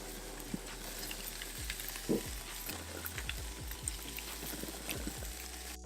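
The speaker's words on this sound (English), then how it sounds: "Get that nice sizzle, that's what you want." A steak sizzles on a hot barbecue grill as Brazilian-style steak cooks, a steady frying crackle with scattered low thumps and pops, close and moderately loud, with no talking.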